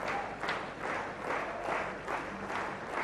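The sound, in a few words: cricket stadium crowd applauding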